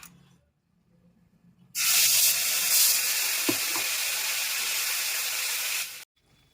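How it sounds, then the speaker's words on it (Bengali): Ground paste of ginger, cumin and chilli drops into hot oil and sets off a sudden loud, steady hissing sizzle that lasts about four seconds and then stops abruptly, after a quiet moment at the start. "এবার বেটে রাখা মশলা দেব আদা জিরে লঙ্কা"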